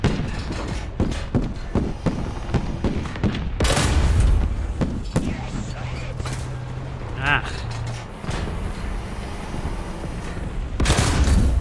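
Tank cannon shots and gunfire in War Thunder, with a Panzer III among the targets, sounding as a run of sharp blasts and thuds mixed with steady battle rumble throughout.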